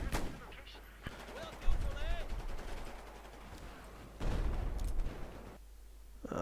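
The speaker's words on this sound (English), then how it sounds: "That was a good nade." Gunfire and a blast from an aggressive recon round in a first-person shooter, a grenade going off among bursts of shots, with a broadband thump near the middle and another heavy burst later over steady game noise.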